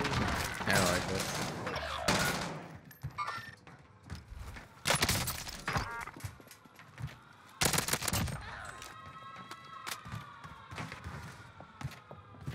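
A PPSh submachine gun fires in a video game on the Alcatraz map, with several rapid bursts of gunfire broken by short pauses, clacking weapon mechanics and other game effects.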